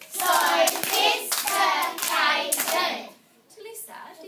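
Hands clap out the syllables of a word in a classroom reading lesson, a handful of sharp, evenly spaced claps mixed in with a child's and an adult's voices speaking. Close and moderately loud.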